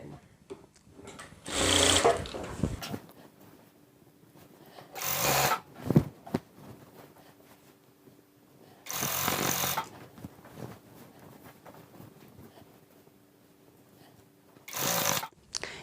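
A sewing machine stitches a channel around elastic in a waistband, leaving the elastic free inside. It runs in four short, loud bursts of rapid whirring, separated by quiet pauses.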